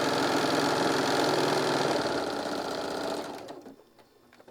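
A sewing machine stitches a fabric quilt block, back tacking with lightweight fusible for a quarter-inch seam: a steady, loud, fast needle whir that runs continuously and then slows and stops near the end.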